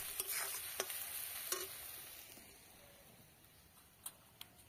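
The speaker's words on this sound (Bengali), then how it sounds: "এবার আরেকটু কষিয়ে নেব।" Chili powder, turmeric and salt are sautéed in a pan, giving a faint sizzle under scattered stirring scrapes and light clicks of a spoon, quiet and close.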